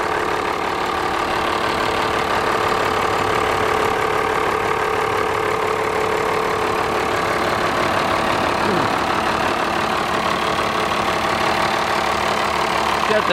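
A 1995 Dodge 3500 dually with a Cummins diesel and P-pump idles steadily after a warm-weather cold start, giving a loud, continuous, close clattering rumble with diesel knock and no talk over it.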